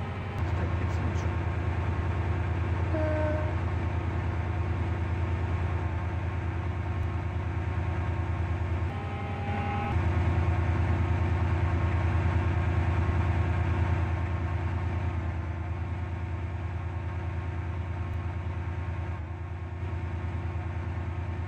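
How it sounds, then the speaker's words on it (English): Train arriving and idling at Morganstown station in the Stepford County Railway video game, a steady low engine drone that holds at near-constant loudness, with a brief shift partway through and announcement-like voices faintly over it. "This train is now approaching Morganstown."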